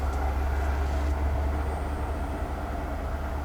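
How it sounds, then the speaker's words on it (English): A train rumbles past close by, a loud, steady low roar with a continuous rolling drone that holds evenly for several seconds, heard from near a parked van without any talk over it. "Just got a train passing by, and she doesn't like train."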